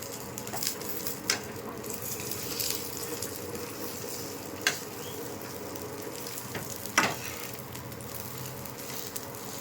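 An egg fries in oil in a pan while it is folded into an omelette for egg curry. A steady close sizzle runs throughout, broken by a few sharp utensil clicks, with no talking.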